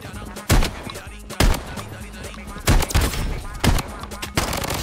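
Shotgun blasts in Blood Strike crack out in about five loud, separate shots spaced roughly a second apart, each a sharp burst over a quieter game background.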